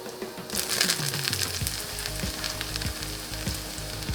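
Eggplant sizzles steadily in hot olive oil in a frying pan, a loud, continuous crackle with occasional spits and clicks as the pieces settle.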